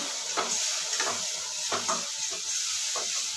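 Crushed tomato hits a hot frying pan and sizzles with a steady, bright hiss, while a spoon stirs in a few soft scraping pulses; the sound is close and alone, with no voices.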